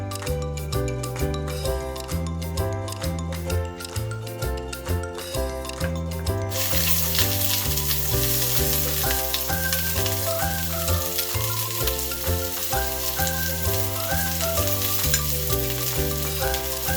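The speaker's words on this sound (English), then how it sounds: "So first I'm going to fry the onion for 2 minutes only." Onion stir-frying in a pan over a medium-high flame gives a steady, close sizzle that runs the whole way through, with a constant tonal musical bed underneath.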